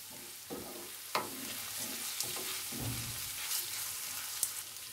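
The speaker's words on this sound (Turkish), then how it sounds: "Biberlerle beraber kavuralım." Rice and peppers sauté in a pan, giving a steady broad sizzle. A few sharp scrapes and stirring knocks break through it, and no one speaks.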